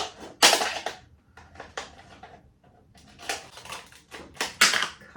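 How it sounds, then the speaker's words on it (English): A plastic pint-sized cup is cut down with sharp, crackling snips and cracks in irregular bursts, close and fairly loud, with short pauses between cuts. "I'm just going to cut it down a little bit, because I won't need it to be quite so high."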